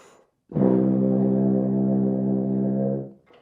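One deep sustained tuba note, a C, sounding alone for roughly two and a half seconds before tapering off.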